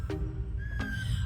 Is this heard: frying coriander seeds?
no